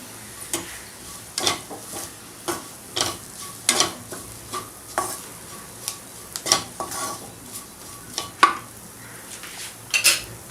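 A spoon scrapes and clanks against a pan in a steady rhythm as a coarse spice paste is stirred into a baby potato gravy, with light sizzling underneath and no talking.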